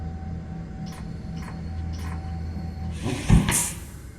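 A sci-fi door to the control room in Lone Echo II slides open: a few soft mechanical clicks first, then a rising hiss and thump as the panel parts, set against a steady low station hum.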